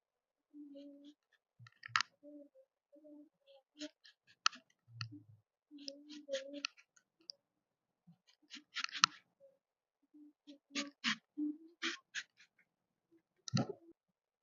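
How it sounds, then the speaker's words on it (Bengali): A knife cuts through a raw green mango with its peel on, shredding it for a spicy garlic pickle, giving a run of crisp, close clicking cuts in bursts with short pauses between them. "আর এই খোসা সমেত কিন্তু আমি আজকে কাটবো দেখুন কিভাবে কেটে নিচ্ছি"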